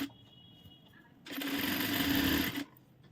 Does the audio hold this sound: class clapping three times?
no